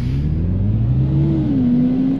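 Bugatti Chiron engine revving and accelerating in a VR driving game, a steady loud drone with a rising and settling pitch, heard alone.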